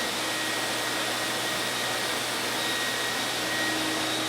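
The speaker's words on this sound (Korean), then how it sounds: "진공청소기로 실험해봤다" A vacuum cleaner runs loud and unbroken at close range, a steady whooshing drone with a faint high whine, and nobody speaks over it.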